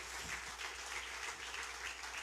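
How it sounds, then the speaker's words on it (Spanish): Church congregation applauding during a Spanish-language morning service, a steady, soft wash of clapping heard from a distance in a reverberant hall, even and unbroken throughout. "Denle un aplauso al Señor en esta mañana."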